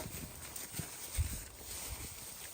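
Hooves clop softly on the ground as a four-month-old Brabant draft filly walks, a few uneven steps heard close but faint, with no talking.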